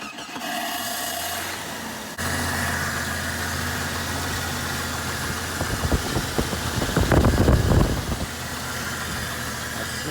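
A 1990 Jeep Cherokee with a 4.0L engine idles after a fuel pressure regulator replacement, a steady low rumbling hum with a brief louder throbbing patch partway through.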